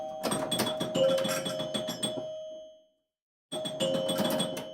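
Electronic scoring chimes ring from a home-built Joker Poker pinball machine, a rapid run of bright bell-like dings with steady tones, then a sudden gap of silence before the chiming resumes just as loudly.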